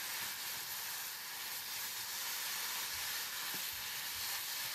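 Shredded potato is stir-fried in a wok with a splash of white vinegar, giving a soft, steady sizzle with faint scraping of the spatula, low and continuous with no voices.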